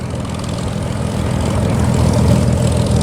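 A propeller airplane taxiing at an airport during planespotting, its engine drone and prop buzz loud and steady, swelling slightly as it passes nearby.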